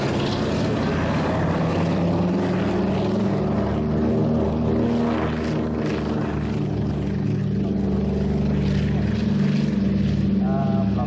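A Douglas C-47 propeller aircraft flies past at an airshow, its steady, droning engines humming loudly throughout, a continuous heavy rumble with no breaks.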